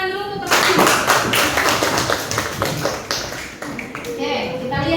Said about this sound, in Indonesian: Berikan tepuk tangan dulu untuk teman-teman.